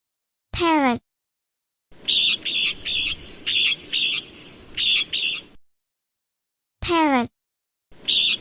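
A parrot at a zoo lets out a run of harsh, rapid squawks in quick bursts, fairly loud and close, with short spoken announcements just before and after.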